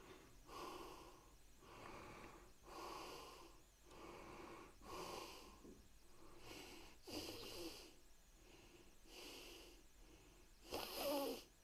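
Exaggerated breaths close into a KIMAFUN 2.4G wireless lavalier microphone, about eight slow, rhythmic cycles of loud inhales and exhales with brief pauses between.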